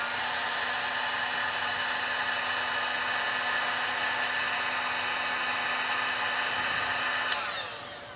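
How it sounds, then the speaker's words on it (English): A heat gun blowing hot air onto the temperature sensor of a GoKWH LiFePO4 100Ah 12.8V battery, a steady close whooshing roar with a constant whine that then cuts off and winds down. "I'll be using the heat gun and we'll see if it has a high temp cutoff"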